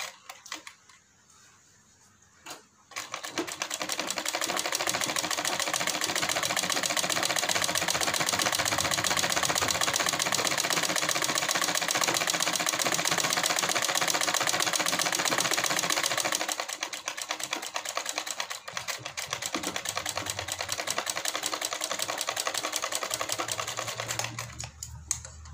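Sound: sewing machine stitching along the edge of a salwar hem

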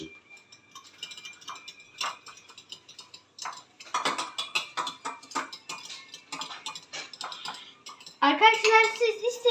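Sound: eggs being stirred and mixed in a bowl

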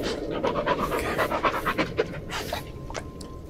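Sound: dog panting in the video game Blair Witch

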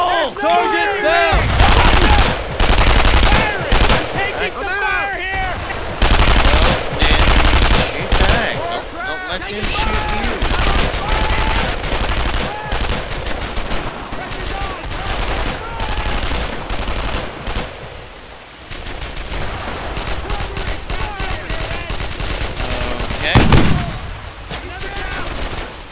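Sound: gunfire in Brothers in Arms video game battle

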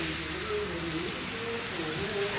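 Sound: rain falling beside a highway dhaba

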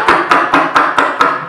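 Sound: beatboxer imitating a drum rim shot

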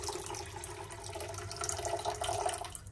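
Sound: water poured for sugar syrup

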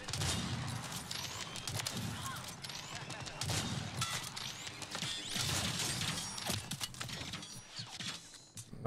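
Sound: sniper gunfire in a video game

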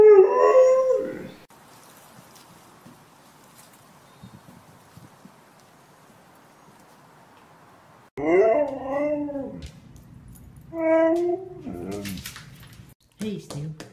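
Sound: husky howling and whimpering while dreaming in its sleep

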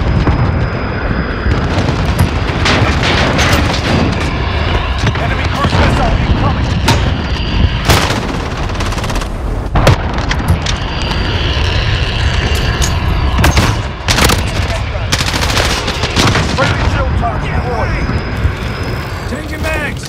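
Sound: gunfire in a video game battle

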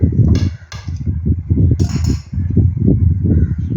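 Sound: cutting steamed vattayappam on a plate

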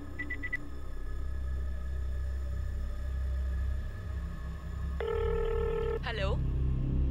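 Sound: telephone number being dialed and ringing

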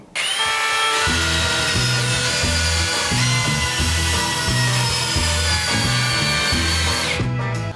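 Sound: Tekhmann cordless drill driving screws

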